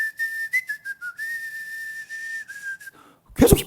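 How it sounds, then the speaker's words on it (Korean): A pastor whistles a wavering, sustained tune with short breaks between phrases, clear and close, ending with a brief louder burst of noise. "계속 휘파람 불고 다니니까"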